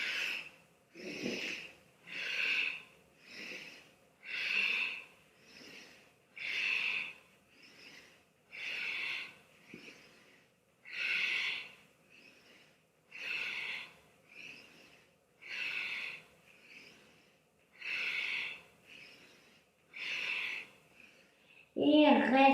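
Slow, steady in-and-out breathing during a hatha yoga leg-stretching exercise, about a dozen airy breaths evenly spaced, close and soft, with a voice briefly at the end.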